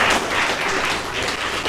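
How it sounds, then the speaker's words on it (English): Dense audience applause filling the whole moment, steady broadband clapping from a crowd celebrating a business milestone at a live event, with no voices over it. "let's give them a big round of applause"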